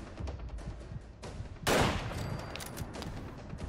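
Gunfire in the video game Fallout 4 on hardcore mode, with scattered shots followed by a loud burst of rapid fire that then tapers into lingering echoing reports, with no voices over it.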